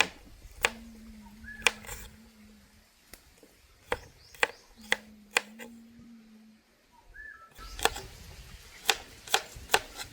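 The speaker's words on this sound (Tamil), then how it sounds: "அதோட சேர்த்து இஞ்சியும் அப்படி சின்ன சின்னதாக வெட்டுவோம்" A knife chops ginger and garlic into small pieces on a board, giving about a dozen sharp, uneven knocks at close range while birds chirp in the background of a village outdoor kitchen.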